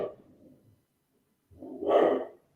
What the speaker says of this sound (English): There go my dogs.